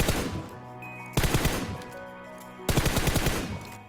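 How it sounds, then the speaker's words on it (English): Gunfire on the training ground in PUBG, heard as three sharp, loud bursts of rapid shots at roughly even intervals, each one followed by a short decay. No voices are heard. "Only aim at the head and fire 5 to 8 bullets at one target."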